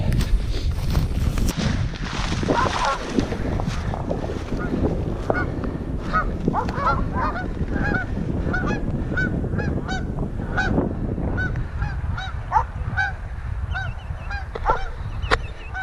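Geese honk repeatedly outdoors against steady wind rumble, their calls rising over the noise in a loose, continuous chorus.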